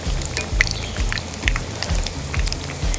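Steady patter of rain dripping and tapping on a surface, with scattered sharper drops and a low rhythmic knocking underneath, no voices.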